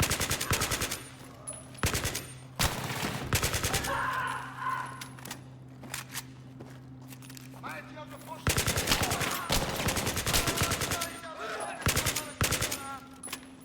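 Rapid automatic gunfire from the Battlefield 3 campaign, loud bursts of machine-gun fire and single shots in clusters, pausing briefly mid-clip before heavy firing resumes, with a low steady hum underneath.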